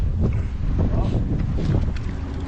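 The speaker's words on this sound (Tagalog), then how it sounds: "Mahangin po kasi sa taas." Strong gusts high up buffet the microphone with a heavy, roaring low rumble that continues throughout.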